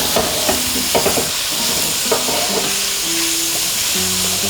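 Garlic and onions fry in a pan for stuffed meatballs, a steady sizzle and hiss broken by several clinks and scrapes of a utensil stirring against the pan.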